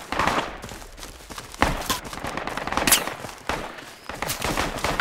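Sustained gunfire in the tactical shooter game Project Reality during a close-range firefight, with repeated rapid bursts and sharp cracks of automatic weapons layered over one another, loud and dense throughout.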